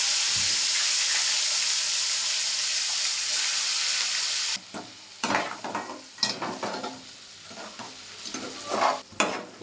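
Prawns frying in oil for a tamarind egg curry, a loud steady sizzle for the first half that drops away, then intermittent bursts of crackle and spatter as the pan is stirred.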